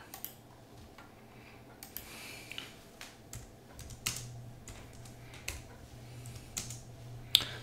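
Someone types on a Logitech MX Keys S keyboard, a soft series of irregular clicks and taps, close and fairly quiet over a faint steady hum.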